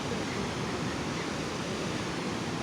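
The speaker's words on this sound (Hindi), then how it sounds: "सरस्वती नदी," The Saraswati river rushing near Mana village, a steady, dense roar of flowing water, close and continuous throughout, with no voices.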